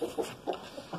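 Moorish hens in a henhouse giving soft, quick clucks, several short calls in an uneven rhythm, faint and close, with no talking.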